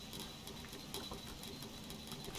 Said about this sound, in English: It's just a rainy day